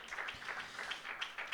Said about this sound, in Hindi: यीशु मसीह के लिए तालियां बजाएं